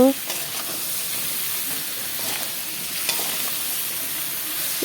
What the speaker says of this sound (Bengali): এখন বেগুনগুলোকে হলুদ নুন দিয়ে ভালো করে ভেজে নেব।